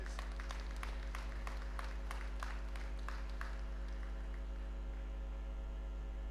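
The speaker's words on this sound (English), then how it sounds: "Give her a round of applause, please." Audience applause at a university graduation ceremony, a scattered burst of claps fading to a sparse few over a steady electrical hum in a large hall.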